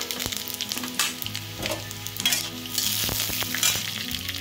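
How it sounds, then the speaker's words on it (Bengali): Coriander seeds fry in hot oil for a sweet, sour and spicy dried jujube pickle, sizzling steadily and close up. Stirring scrapes and small clicks break through the frying throughout. "এবার ওই তেলের মধ্যেই ধনেগুলো দিয়ে দেওয়া হলো,"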